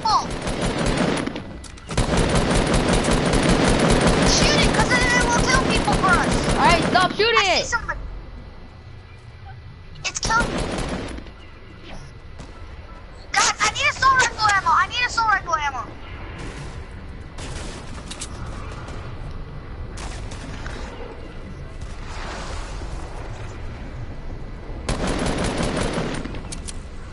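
Heavy automatic gunfire in Fortnite, long loud sustained bursts separated by quieter gaps, with players talking intermittently between and over the shooting.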